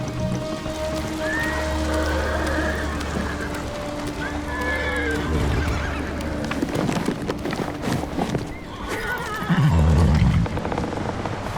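A horse in the video game Ghost of Tsushima whinnies twice in a short rising call, then snorts near the end over a steady low hum and patter of rain-like noise.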